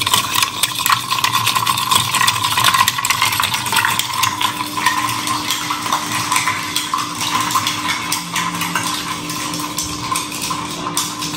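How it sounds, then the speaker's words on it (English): Cocktail being stirred over ice in a mixing glass at a Paris bar, with a steady, continuous clinking and swirling close by, unbroken for the whole stretch and with no talk over it. "To that we add 1 dash of salt, 1 of ice, stir down."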